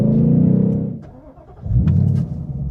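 A Ford Mustang S550 GT Performance Pack engine revs loudly up through a gear, dipping briefly as it shifts and then pulling hard again, close and with no talking.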